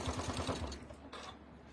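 A sewing machine fitted with a narrow HP presser foot stitches cork fabric in a rapid, close, rhythmic burst of needle strikes that stops after under a second, leaving faint room noise.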